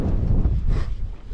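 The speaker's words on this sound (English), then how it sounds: "It's a little windy on the ridge too." Wind buffets a microphone on a ridge during a dirt bike ride through slot canyon country, a loud, rough, low rumbling gust lasting just over a second, with no voices.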